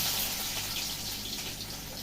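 Onions dropped into hot oil in a pan, with whole tomatoes already in it: a steady, close, loud hissing sizzle that stays even throughout, with no talking.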